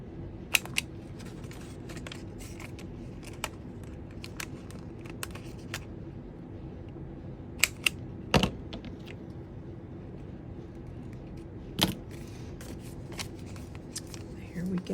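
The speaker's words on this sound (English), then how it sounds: "you have to be careful when you're trimming your little pocket area down" Scissors trimming paper book-page pockets, with sharp snips scattered irregularly over a quiet room tone, close and crisp.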